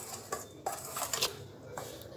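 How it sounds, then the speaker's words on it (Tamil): A ladle stirs pearl millet flour dough in a vessel, giving a few close, irregular metallic scrapes and clinks against the pot, alone without talk. "நல்லா கரண்டி வச்சு மாவை கலந்து விட்டுக்கலாம்."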